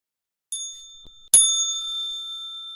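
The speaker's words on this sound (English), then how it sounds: "Gotta get a new bell." A bicycle-style bell rings twice, close and clear: a short first ding, then a louder strike whose bright tone rings on and slowly fades.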